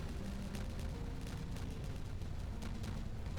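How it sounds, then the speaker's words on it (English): Detonated terrain blasts apart in the Timberborn video game, a dense, continuous roaring rumble of explosions that stays loud and steady throughout, with no voices. "just enjoy the explosion."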